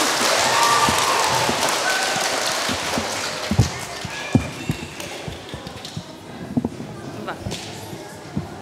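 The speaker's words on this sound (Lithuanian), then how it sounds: "Ir dabar šitais plojimais pasitinkam dėstytoją Gritą." A children's university audience at Vilnius University claps to welcome a lecturer: a dense burst of applause for the first few seconds, then it thins into scattered taps and claps.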